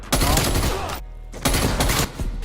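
SMG fire in a first-person shooter video game: two dense, loud bursts of rapid automatic shots separated by a brief pause, with a short third burst at the end.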